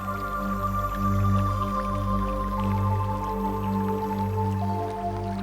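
Tap water left running and dripping while dishes are washed at home, a steady continuous flow with a faint droning hum underneath, no voices.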